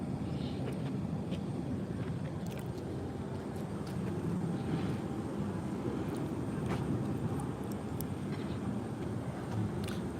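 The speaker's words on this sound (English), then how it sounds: "This is Alaska plane." An Alaska Airlines plane at Monterey airport, a steady low engine rumble and whine running continuously at moderate level, with faint clicks on top.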